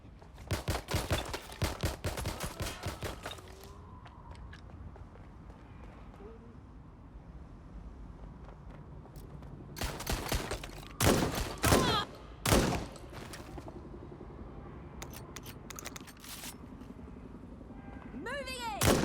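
Gunfire in the Watch Dogs: Legion video game: a dense burst of rapid shots opens, then scattered loud single cracks and short volleys ring out over a low background rumble, with voices talking in between.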